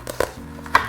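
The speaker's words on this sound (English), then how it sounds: "So as I bring the knife down, I can chop straight through the onion like so." A knife chops straight through an onion on a chopping board, giving two or three quick, close cutting knocks within a second.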